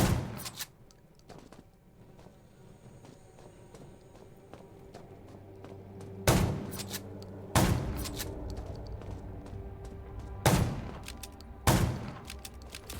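Gunshots in the survival video game Undawn, several sharp, loud reports spaced a second or more apart, some in quick pairs, over a quiet background of footsteps and small clatters.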